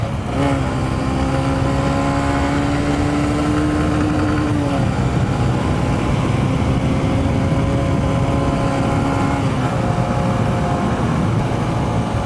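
A 2023 Honda CB125F fitted with a Yuminashi 28mm throttle body hums along on the road, a steady mid-pitched engine drone with slight rises and dips in pitch under constant wind roar, close and loud throughout.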